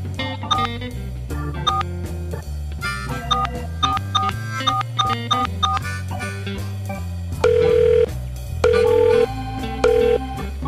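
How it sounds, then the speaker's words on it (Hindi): Tonal phone-line beeps and repeated ringback tones in steady pulses, with music playing underneath throughout. "फोन लगा"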